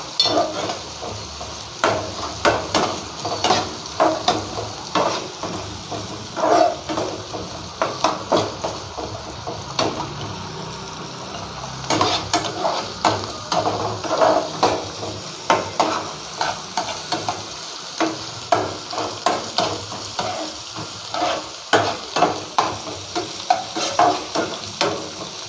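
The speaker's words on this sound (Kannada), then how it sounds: "ಚೆನ್ನಾಗಿ ಫ್ರೈ ಮಾಡ್ಕೊಳ್ಳಿ ಎಲ್ಲ" Crushed ginger and garlic fry for a potato and peas kurma, stirred in a pan under a continuous sizzle. A utensil scrapes and knocks against the pan in a brisk, repeated rhythm, close and loud, with no talking.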